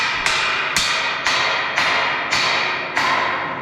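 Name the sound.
hammering wood boards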